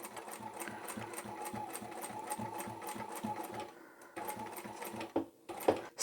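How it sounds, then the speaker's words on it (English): A sewing machine stitches fabric for a chemo cap in a fast, even mechanical chatter that runs steadily, pauses briefly, then resumes with short bursts and a few clicks, close and clear. "Sew up to that mark you've made and backstitch."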